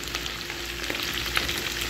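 Steady crackling sizzle of potatoes frying in oil, continuous and close, with a faint low hum underneath.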